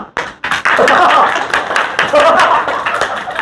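A group claps together during a yoga session in a residential park in Gurugram, producing a dense, lively burst of close hand claps that carries on steadily for a few seconds.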